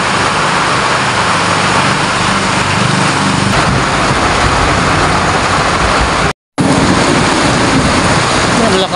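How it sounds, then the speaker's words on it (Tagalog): Heavy afternoon downpour during a 45-minute rainstorm with flooding streets, a loud, dense, continuous hiss of rain that fills the whole scene, broken only by a brief dropout near the end, with no one speaking. "sobrang lakas ng ulan,"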